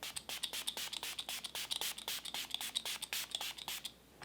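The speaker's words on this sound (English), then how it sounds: "set this with the Catrice Prime and Fine Multi-Talent Fixing Spray" A rapid series of short, hissing spritzes from a pump spray bottle, close and fairly quiet, ending with a brief pause.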